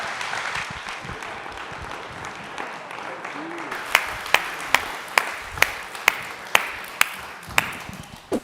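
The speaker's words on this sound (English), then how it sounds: "Can you guys give him a round of applause?" An audience at a community gathering applauds, with soft mixed clapping and murmurs, followed by a series of evenly spaced sharp taps or claps that ring out one by one.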